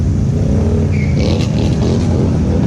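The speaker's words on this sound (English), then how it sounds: "Hear that belt squealing?" A thin, high squeal from a stock ATV's drive belt rises briefly over its loud, rumbling engine, close by, lasting only a moment within the steady motor noise.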